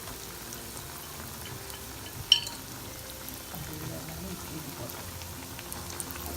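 Urad vada frying in sesame oil gives a faint, steady bubbling sizzle with a brief clink near the start and occasional soft kitchen knocks.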